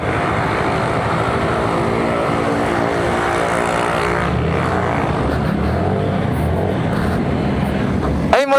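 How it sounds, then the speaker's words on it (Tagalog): Engine of an FKM MTX motorcycle running hard and loud throughout, a steady rumbling drone with a rising pitch toward the end, close to the listener. "malakas na motor to ha."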